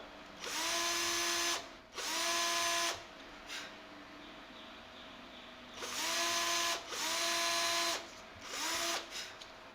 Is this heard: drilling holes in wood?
yes